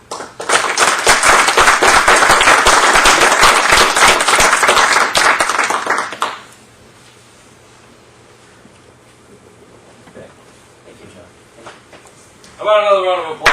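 People at a town board meeting give a loud, dense round of applause for about six seconds, then it drops to quiet room noise before a voice starts speaking near the end.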